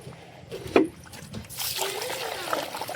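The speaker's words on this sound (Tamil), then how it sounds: "இப்போ தண்ணி ஊற்றிடுங்க." Water poured into soaking rice for a 3 kg beef biryani, a brief splash followed by a sustained trickling flow, with a voice nearby.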